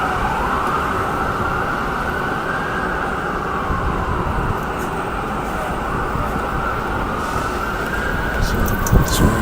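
Police and ambulance sirens wail steadily through a busy city street during unrest, rising and falling over constant traffic rumble, with faint voices underneath.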